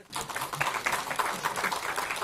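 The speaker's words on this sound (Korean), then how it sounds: "대표님 큰 박수 한번 보내드리죠" An indoor party meeting audience gives a short round of clapping for party leader Lee Jae-myung, a brief patter of hands heard at a distance under a faint room murmur.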